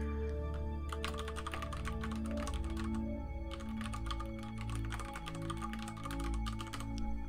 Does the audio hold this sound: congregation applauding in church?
no